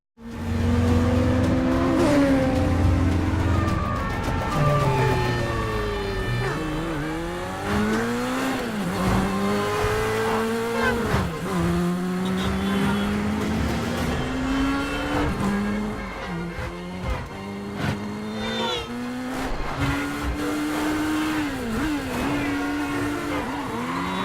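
Car chase in the film Mission: Impossible – Fallout, with cars racing past, engines revving up and down, and repeated tire squeals and skids, loud and continuous throughout.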